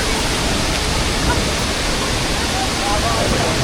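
Tinago Falls, a waterfall in Iligan City, pours out a steady, dense rushing roar of falling water that stays loud and even throughout with no pauses.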